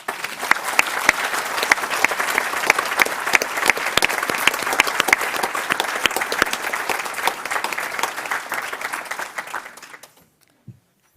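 An audience at a school board meeting gives a full, steady round of applause honoring students and a teacher. The dense clapping holds evenly for about ten seconds, then stops abruptly into near silence.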